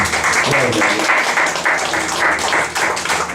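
A church congregation claps loudly and steadily in a sustained round of applause during a service, with indistinct voices and music mixed into the clapping.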